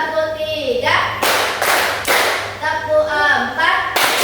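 Children clap their hands in unison in a classroom, a few loud sharp claps spaced out between counting voices that chant over the rhythm.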